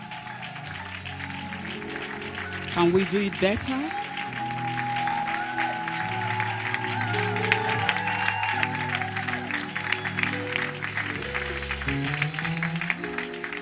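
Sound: audience applause

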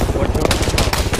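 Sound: gunfire in the video game Arma 3

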